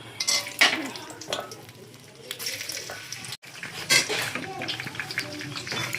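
Onions and pulao ingredients fry in pans on the stove, with a soft steady sizzle and occasional clinks and scrapes of stirring utensils under a person talking.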